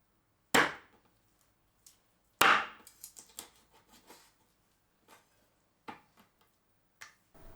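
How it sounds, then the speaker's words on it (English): Cleaver striking a chopping board while cutting chicken, two loud sharp close-up chops followed by scattered lighter taps and knocks, with no talking. "you still get the benefit of the impact between the cleaver and the chopping board"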